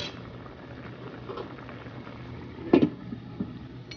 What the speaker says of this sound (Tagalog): check natin kung kumukulo na siya